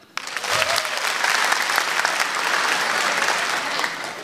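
A stand-up comedy audience breaks into applause, the clapping starting abruptly and holding at full strength as a dense, lively wash, with a few scattered voices in the crowd.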